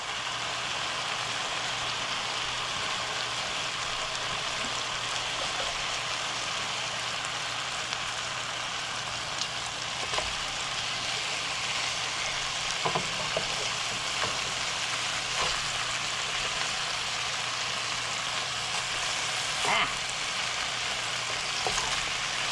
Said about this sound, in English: It will not be all the way cooked. It'll just be seared.